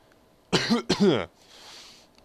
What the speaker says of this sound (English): My chest hurts, and I feel so sad I collapse to my knees and cough.